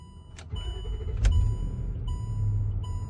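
A 2009 Range Rover Sport L320 engine cranks and catches, settling into a low steady idle rumble close by, with a couple of brief sharp clicks early on.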